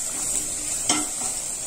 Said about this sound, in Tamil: அது ஒரு நிமிஷம் நல்லா ஃப்ரை ஆகட்டுங்க